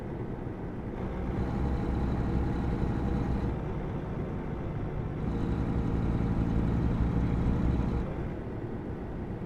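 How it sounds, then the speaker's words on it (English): A Cummins truck's engine brake rumbles in American Truck Simulator, a steady, loud, low growl that swells and holds for several seconds, pulsing slightly without pause. "the engine brake on this Cummins sounds so good"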